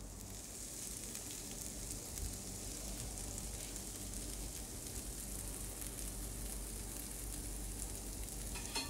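Chicken breast cooking on a hot tawa griddle gives a steady, close sizzle and frying hiss that stays even throughout, with no talking.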